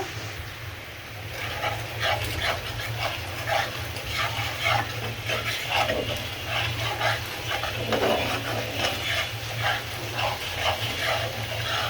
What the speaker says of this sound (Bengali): মশলাটা আমার কষানো হয়ে গিয়েছে, একদম সুন্দর মতো কষিয়ে নিচ্ছি।